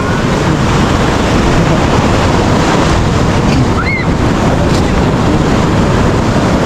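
Surf rolls onto a beach under strong wind, a loud, continuous roar of breaking waves and buffeting gusts across the microphone, with a faint voice briefly audible beneath.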